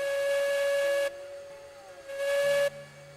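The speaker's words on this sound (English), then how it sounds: "So we got the good whistle." Steam locomotive whistle in the train game Railroads Online, two loud sustained blasts separated by a short pause, with steady hiss beneath.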